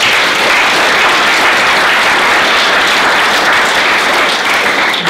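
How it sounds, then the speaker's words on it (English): A large audience bursts into loud, dense applause at a university supply chain competition final, a continuous roar of clapping that stays steady and close throughout, with no talk over it. "And so you all need a round of applause for that."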